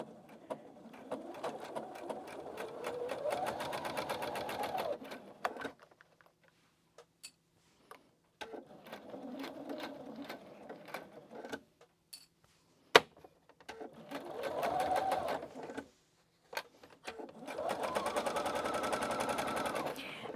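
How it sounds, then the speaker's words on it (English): A sewing machine stitches a seam on a nursing pillow cover in several bursts of rapid, even needle chatter, separated by short quiet pauses with a few clicks. "So I'm going to go and sew this up. So you want to stitch 5/8 of an inch from the edge"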